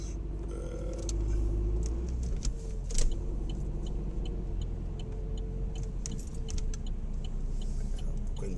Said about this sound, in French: C'est beaucoup de bagnole.